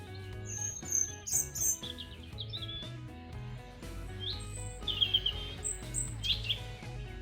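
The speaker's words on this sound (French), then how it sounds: "Où on entend les oiseaux chanter" Several birds sing and chirp with bright, varied whistles and trills, repeated calls overlapping against a low steady hum in the background.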